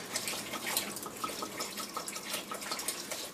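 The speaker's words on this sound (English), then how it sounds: "the next step is we're going to add some water" Water pours steadily into a pot of vegan chili ingredients, a continuous close splashing and trickling with no voices.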